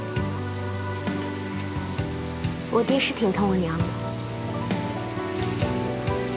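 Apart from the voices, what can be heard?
rain falling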